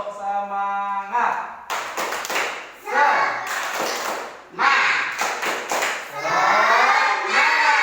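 Schoolchildren in a classroom perform the rhythmic 'tepuk semangat' spirit clap, patterned bursts of hand claps and taps mixed with their chanting voices, loud and close.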